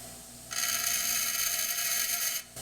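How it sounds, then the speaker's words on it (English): A grinder working on metal parts and throwing long sparks makes a steady, bright, high-pitched whine. It runs loud and unbroken for about two seconds, then cuts off abruptly. "When I grind that, nice long sparks, they branch out at the end."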